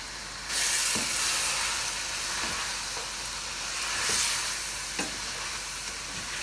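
Masala with red chili powder frying in a pan for achari gosht: a steady, close sizzle with periodic scraping strokes of a spoon stirring through it.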